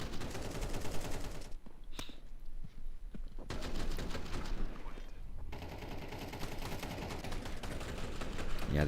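Rapid Tech 9 gunfire crackles through a Counter-Strike match, shots clattering in quick bursts over a steady layer of game noise, with a short lull midway before the firing resumes.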